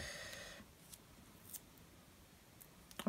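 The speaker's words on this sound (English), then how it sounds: "Shouldn't be using my decent scissors for this." Scissors snip double-sided tape in a few short, sharp bursts spaced across the moment, the loudest cut coming at the very end, with quiet room tone in between.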